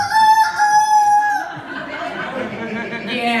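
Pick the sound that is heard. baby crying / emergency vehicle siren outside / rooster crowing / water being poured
rooster crowing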